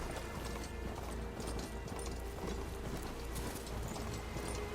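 Steady clip-clop of horse hooves at a trotting rhythm in the video game Horizon Forbidden West, close and continuous over a mechanical background hum, with no talking.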